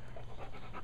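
A small dog panting close by, quick rhythmic breaths repeating steadily at a faint level with no speech over it.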